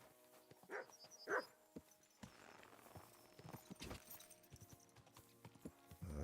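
Irregular hoof clip-clops from a game horse, a few close thuds and scrapes over a low background hum, no talking.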